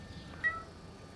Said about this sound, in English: Where's your meow?